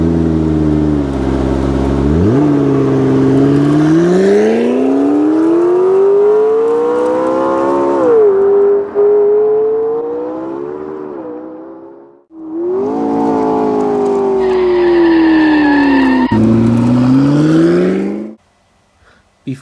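Two cars in a Bugatti Chiron street race rev and accelerate hard, engine pitch climbing in long loud sweeps, cutting out briefly around midway before roaring again and ending abruptly.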